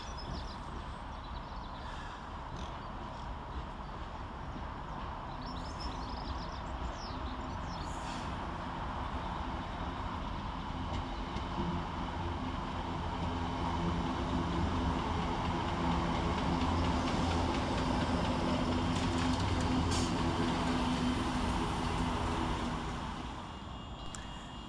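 Scotrail train 32312 pulling into Motherwell station, a steady rumble of wheels and motors that swells as it draws nearer, with faint squeals and clatter along the platform.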